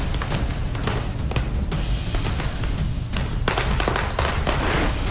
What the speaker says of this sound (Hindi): साहिब के सम्मान में ऐसे पटाखे फोड़े जा रहे हैं